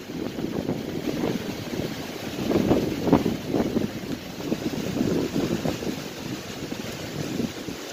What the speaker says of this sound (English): It's stupid windy out here today